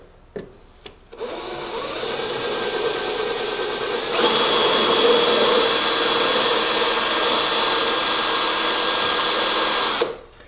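A Craftsman 19.2V cordless drill bores into a grade 5 bolt, a steady close whine running about nine seconds and getting louder and harsher partway through before stopping abruptly.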